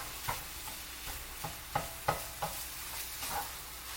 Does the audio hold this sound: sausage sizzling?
yes